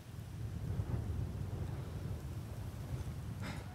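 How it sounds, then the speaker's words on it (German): Rain falls outside in the video game Skyrim, with low rumbling thunder underneath: a dense, steady, moderately loud wash with no talking over it. "Draußen regnet's."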